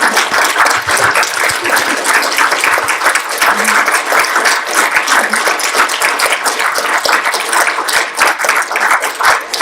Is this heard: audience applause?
yes